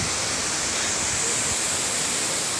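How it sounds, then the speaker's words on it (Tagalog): A waterfall pours in a dense, steady hiss and roar, loud and close, unbroken throughout with nothing else heard. "Grabe waterfall."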